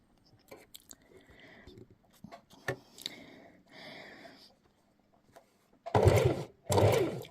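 A Singer Heavy Duty 4432 sewing machine stitching fabric during free-motion quilting with cotton thread, quiet patches of handling before two loud bursts of running near the end.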